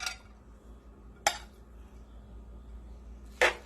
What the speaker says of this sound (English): I will dish it out and to show you guys exactly what it looks like after cooking.